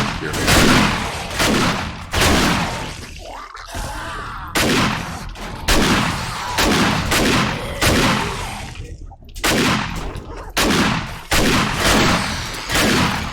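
Repeated loud gunshots in the 7 Days to Die video game during a horde night, a string of heavy booming blasts spaced roughly a second apart with brief pauses between, up close and dominating the sound.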